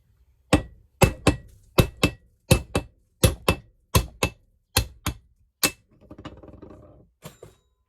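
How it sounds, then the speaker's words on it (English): Hammer blows knocking a steel axle bar through a hole, a steady series of about a dozen sharp, loud metallic strikes, followed by a brief scraping shuffle and two final taps. "knock it through with a decent sized hammer"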